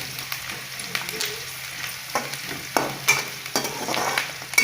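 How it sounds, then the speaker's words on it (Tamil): Onions frying in a pan for a cauliflower and potato fry, with steady sizzling broken by several sharp scraping stirs of a spoon; no voices. "வெங்காயம் நல்லா வணங்கட்டும்."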